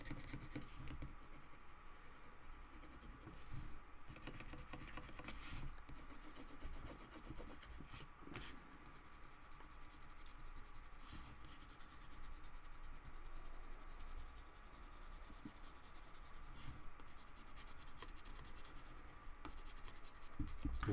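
Colored pencils scratch and rub softly across paper in steady, close strokes with brief pauses, a faint dry drawing sound with no talking.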